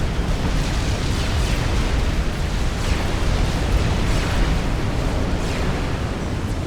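Torpedoes blowing up destroyers in the real-time strategy game Supreme Commander: Forged Alliance, heard as a steady, dense roar of overlapping explosion rumble that holds loud and unbroken for the whole stretch.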